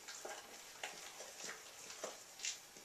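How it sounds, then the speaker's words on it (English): Vegan banana date bread batter being mixed evenly in a bowl, a soft wet stirring with faint scraping strokes recurring about every half second, quiet and close with no talking. "What I'm trying to do here is just mix everything nice and evenly."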